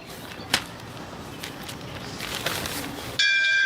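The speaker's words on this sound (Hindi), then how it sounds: "घंटी बजी।" A school bell rings in a classroom, a short electric ring cutting in sharply at the end after a stretch of quiet room noise with a couple of faint knocks.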